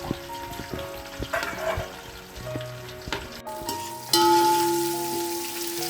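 Onion and curry leaves frying in hot oil for a tempering, with a steady close sizzle, scattered crackles and occasional spoon knocks against the pan, growing louder near the end.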